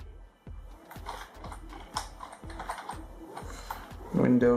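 Keys tapped on a computer keyboard while entering Windows 10 recovery commands, a steady run of close, crisp clicks and clacks, with a brief voice near the end.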